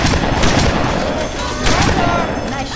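Rapid gunfire from Left 4 Dead 2 in the Dead Air campaign: dense, sustained bursts of shots run nearly continuously at a steady loud level, with brief sharper cracks standing out.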